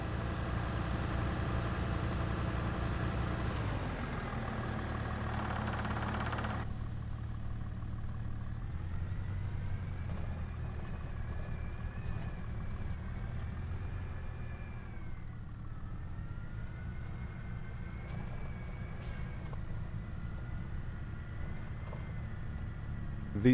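Tractor engine running steadily in a logging simulation game set in the woods, a continuous low idling rumble that rises and shifts slightly in pitch, heard alone without talking.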